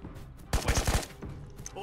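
A burst of about five rapid gunshots rings out in the VR shooter game Ghosts of Tabor, loud booming reports in quick succession, preceded and followed by quieter ambient game noise.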